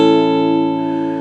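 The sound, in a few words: bar chord played on guitar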